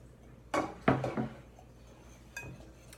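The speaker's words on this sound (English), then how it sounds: "I'll give it a stir to make sure everything's melted and dissolved" A spoon scrapes and clinks against a pot while melted chocolate mixture is stirred, with a few close metallic knocks in quick succession followed by a lighter tap.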